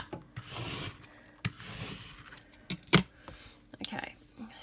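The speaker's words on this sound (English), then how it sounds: "And you want to be as firm as you can. Give it a really good" Glitter heat transfer vinyl being rubbed hard by hand gives close, scratchy rasping strokes with a few sharper scuffs, over faint background noise.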